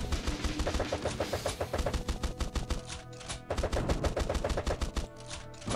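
Rapid, steady bursts of Gatling gun fire in the horde-survivor game Swarm Grinder, a dense mechanical rattle with short pauses between strings of shots, loud and close under game music.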